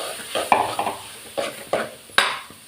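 A spoon stirs a spice mixture with rasam powder in a pan, with several distinct scraping clinks spaced irregularly over a faint sizzle, close and moderately loud.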